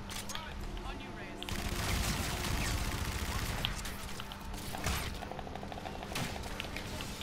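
Rapid bursts of gunfire from a recoiling gun in the video game Call of Duty, sustained and loud through most of the stretch with dense repeated shots, under occasional speech.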